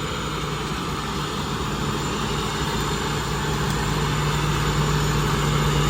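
An engine runs steadily at a constant low throb, a close, unbroken mechanical drone with a persistent hum and no speech.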